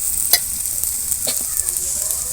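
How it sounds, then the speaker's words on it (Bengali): Chopped onion and green chilli sizzle in a frying pan, a steady close hiss broken by a few sharp stirring clicks and scrapes, with no one talking. "পেঁয়াজ কাঁচা লঙ্কা ভালো করে একটু ভাজা ভাজা করেছি"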